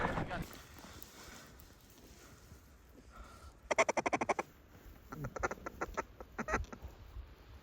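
Mallard ducks quack during a duck hunt, a quick run of loud, rhythmic quacks nearby followed by scattered calls, with occasional human voices and outdoor noise.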